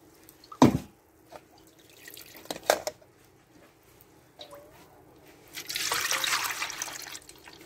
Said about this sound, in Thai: เทน้ำยะนางใส่ไปเลย